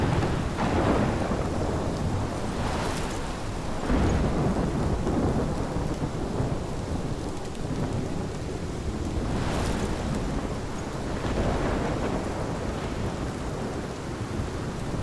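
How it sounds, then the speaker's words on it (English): Heavy thunderstorm in the game Life is Strange: steady downpour of rain with repeated rolling thunder peals swelling and fading across the scene, loud and close, with no voices. "This is my storm!"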